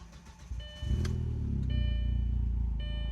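A tuned car with turbo and anti-lag settings starts after the ignition is switched back on: quiet clicks, then the engine catches and settles into a loud, steady, close idle with a rumbling tone.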